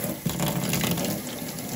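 Water runs steadily from a gas-fired steam boiler's pigtail into a laundry sink, flushing debris out in a continuous, moderately loud gush with no talking.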